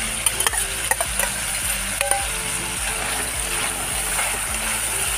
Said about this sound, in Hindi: अब इसमें हम मछलियाँ डाल देते हैं।